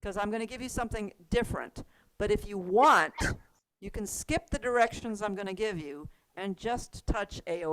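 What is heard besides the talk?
No everyday noises stand out.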